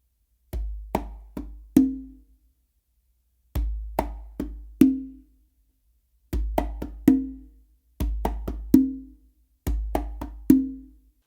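Modern funk pattern played by hand on a single conga, with crisp slaps, muted finger taps and ringing open tones repeating in short, evenly spaced phrases, close and unaccompanied.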